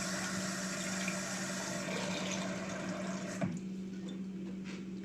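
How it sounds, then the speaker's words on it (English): Cold tap water pours steadily into a container for a few seconds with a continuous rushing, splashing flow, then stops, leaving quiet room tone; no talking over it. "And then 3 cups of water."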